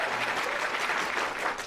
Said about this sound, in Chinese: 让我们掌声欢迎二位京剧表演艺术家于奎志老师和李生素老师